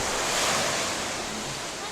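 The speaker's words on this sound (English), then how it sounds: "We made it to the beach." Surf washes steadily onto a beach on Maui, Hawaii, a broad close roar of breaking waves with some wind buffeting the microphone, alone with no voices.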